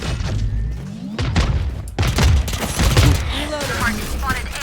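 Missile barrage explosions in the video game Valorant: a rapid volley of loud booms and thuds, with a brief gap near two seconds, then dense blasts and debris rattling, with faint gameplay sounds and whooshes trailing off.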